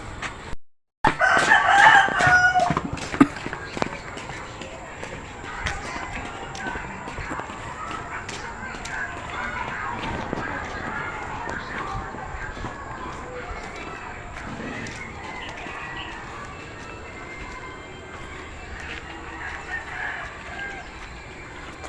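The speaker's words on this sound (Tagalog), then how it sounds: "So, papakain muna tayo ng" Backyard chickens and a rooster at feeding time, with clucking and scattered crowing over a busy, rustling rural scene, as people talk nearby.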